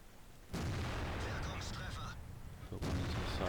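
Waffenträger auf E 100 tank destroyer fires its main gun in World of Tanks, a sharp booming blast followed by rumbling reverberation, then a second shot near the end, with game effects in between.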